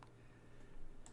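Light keystrokes on a computer keyboard while entering a search in game-engine software, a faint scattered run of soft clicks over a quiet room hum, with no speech.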